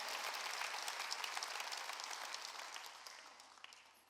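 A church congregation claps hands together during a sermon, a dense and steady patter of many palms that gradually thins out and fades over a few seconds.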